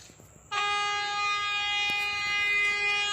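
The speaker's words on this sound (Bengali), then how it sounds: "ট্রেনের ইঞ্জিন আসছে" A loud, sustained horn from an approaching train locomotive blasts suddenly after a brief quiet moment and holds steady, close and piercing, with no speech.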